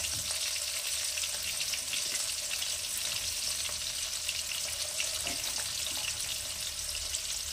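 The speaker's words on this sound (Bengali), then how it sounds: "দিয়ে হালকা করে এটা ভেজে রাখবো, বেশি কড়া ভাজবো না" Vegetables seasoned with salt and turmeric fry lightly in a pan, giving a steady, soft sizzle with faint hissing and a few small clicks of stirring throughout, no voices.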